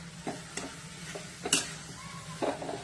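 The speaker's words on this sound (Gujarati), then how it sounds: "હવે છેલ્લે આપણે બટાકા મેશ કરીને રાખ્યા હતા એ બટાકા નાખી દઈશું। બરાબર મિક્સ કરી દઈશું બધું।" A spoon stirs mashed potatoes into spiced masala in a pan for a veggie frankie filling, giving soft, scattered scrapes and taps over a faint sizzle, quiet and close, with no talking.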